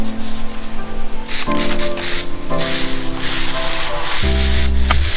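Lawn irrigation sprinkler heads spray water on a residential zone, giving a loud continuous hissing spray. A steady tonal hum underneath shifts pitch in steps.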